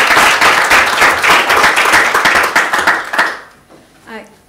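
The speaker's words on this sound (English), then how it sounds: "a round of applause" Loud, close applause from a lecture audience at an LSE law evening talk, dense clapping for about three seconds that stops abruptly, followed briefly by a speaker's voice.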